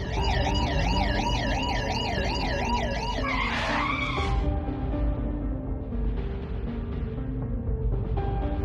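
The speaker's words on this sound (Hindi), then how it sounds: "ये तो पुलिस के कार की आवाज है गुल्ली" Police car siren wailing in a steady rising and falling cycle, loud and close, then cut off by a sharp tire skid as the car stops, leaving a low idling rumble.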